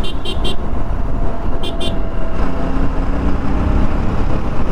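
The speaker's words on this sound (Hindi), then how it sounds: "लोग पीछे से फर्जी का हॉर्न मारते हैं" Car horns honk behind an Apache RR 310 motorcycle in hot road traffic, two short double toots standing out near and loud over a steady roar of engines and traffic noise.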